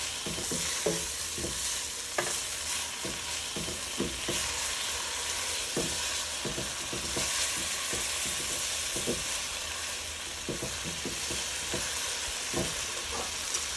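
Cauliflower rice stir-frying with chili paste and soy sauce gives a steady, close sizzle, with frequent sharp scrapes and taps of a utensil against the pan throughout.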